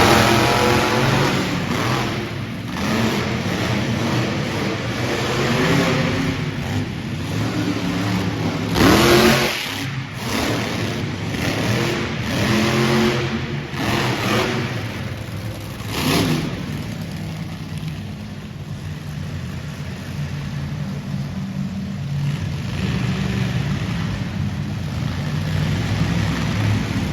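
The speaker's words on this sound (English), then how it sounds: "Side-by-side racing from two legendary trucks, Outlaw and Shark Attack." Monster trucks Outlaw and Shark Attack race side by side in an arena, engines roaring and revving loudly and continuously, with surges and bursts as they accelerate.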